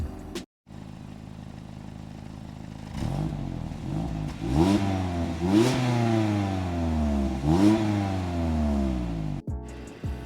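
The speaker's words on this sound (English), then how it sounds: "let's give a sound test of the exhaust and see what this baby got" A 2017 Mazda MX-5 RF Miata's exhaust, heard after a brief startup: loud, close revs climb and fall in several rising sweeps, then settle back to a steady idle.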